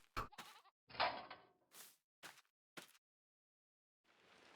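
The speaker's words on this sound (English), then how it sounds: "here we are over with the sheep" Sheep in the livestock pen of Farming Simulator 22 give a few short, separate bleats and calls, moderately close, with quiet gaps between them and soft ambient noise rising at the end.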